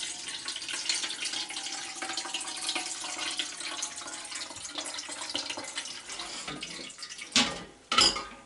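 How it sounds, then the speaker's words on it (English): Cold tap water runs and splashes into a pot of hot curds during sheep-milk Gouda cheesemaking, a steady faucet stream with a couple of louder pours near the end. "Put some cold water in here."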